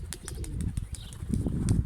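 A pigeon's wings flap rapidly and close up as the bird comes in to land, with a soft coo in the background.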